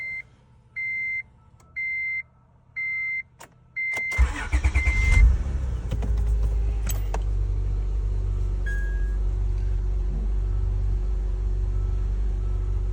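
Acura TL, third generation, manual-swapped: a series of four or five dash chimes, then the starter cranks and the engine catches into a steady, close idle rumble.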